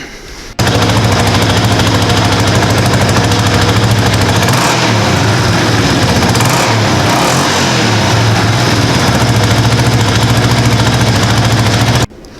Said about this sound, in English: It's taking the throttle a lot better now